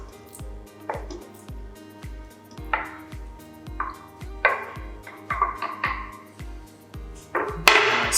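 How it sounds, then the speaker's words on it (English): A knife chops octopus for an Azorean stew in steady, evenly spaced thuds on a board, with occasional brighter clinks of metal and kitchenware in between. "Chop the octopus."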